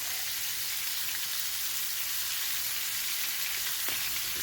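A sauerbraten roast sizzles in a hot pan, a steady, continuous hiss of frying fat that holds at an even level throughout, close and without any talk.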